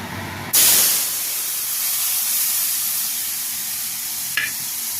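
A watery spice paste hits a hot pan with a sudden loud burst of sizzling that settles into a steady close hiss, with a brief clink near the end, while a river fish curry is cooked Bengali style.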